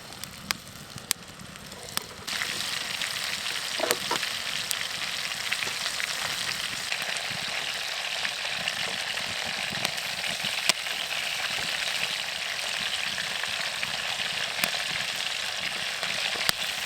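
Fish frying in a pan over a backcountry camp stove on a canoe trip, a steady hissing sizzle that starts loud after a few clicks and handling knocks, with occasional stirring scrapes.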